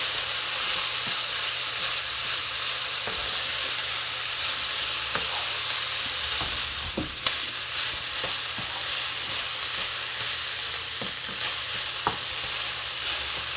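Rice being stir-fried in a pan for sweet and sour chicken gives a steady, close sizzle and hiss, broken by faint scraping and stirring clicks, with no talk.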